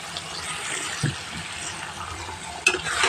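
Lemon-marinated duck meat is stirred in a pan for a Bangladeshi duck curry, giving a soft, continuous sizzle with a couple of brief utensil clatters, and nobody speaks.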